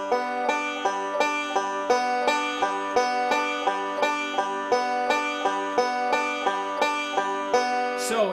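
Banjo picking a steady forward roll pattern that starts on the third note, an even repeating rhythm of bright plucked notes with sharp attacks, close and clear with no talking.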